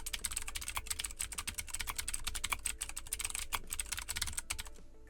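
Rapid, steady clatter of keys being typed on a computer keyboard, close up and continuous, with no voices.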